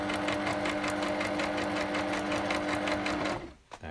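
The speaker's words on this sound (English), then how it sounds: "You always have to put your foot down if you're going to start sewing again, Dave." A sewing machine runs at a steady fast pace, its needle hammering in an even rapid rhythm with a motor hum underneath, close and loud, then stopping abruptly near the end.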